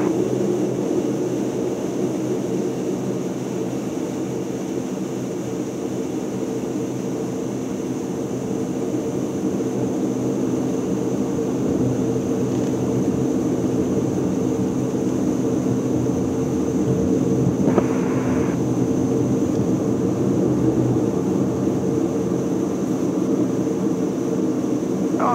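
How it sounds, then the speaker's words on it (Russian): Light airplane taking off, a steady loud engine roar heard from inside the cabin, continuous and unbroken, with no talk. "Вот теперь мы взлетаем."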